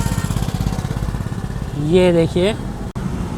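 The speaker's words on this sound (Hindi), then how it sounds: "दिलसुख नगर पे कुछ ये हाल है ट्रैफिक का" Night road traffic at Dilsukhnagar: a steady rumble of engines with a vehicle horn blaring briefly partway through, close by, as someone speaks a few words over it.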